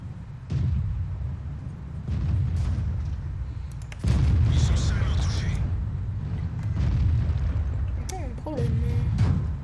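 Tank cannon fire in World of Tanks, heavy booming shots recurring through the clip, several loud blasts with rumbling low end, while someone talks over them.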